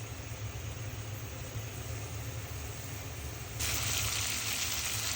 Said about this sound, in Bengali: মশলা দিয়ে কষিয়ে নিচ্ছি।